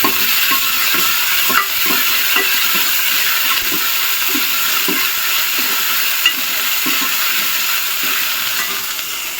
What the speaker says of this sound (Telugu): అల్లం వెల్లుల్లి పేస్ట్ వేయండి